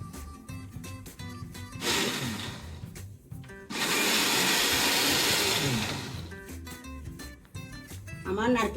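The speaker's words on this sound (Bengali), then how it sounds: "আমি নারকেলগুলা ব্লেন্ডার করে নিচ্ছি।" A kitchen blender grinds coconut into paste in two loud bursts of whirring, with quieter kitchen sounds and a voice talking in between.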